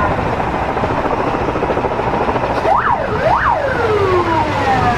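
Helicopters over a burning concert hall in Moscow give a loud, steady roar of rotor noise, and an emergency siren wails in partway through with rising and falling sweeps.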